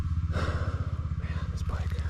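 A motorcycle stuck on a steep trail of roots and rocks revs its engine in a steady pulsing drone somewhat off in the distance, heard under someone talking.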